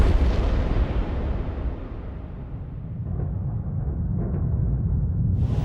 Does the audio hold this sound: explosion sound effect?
yes